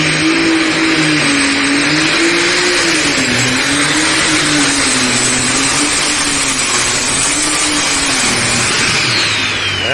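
Tractor engine in a pulling competition at a Grand National event in Canton, Ohio roars loud and close for the full run, a sustained heavy drone with wavering pitch as it strains under load.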